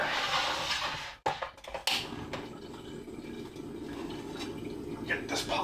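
Tap water runs and splashes into a cooking pot in a home kitchen, a steady rushing pour broken by a brief pause and clunks near the start, continuing loud and close.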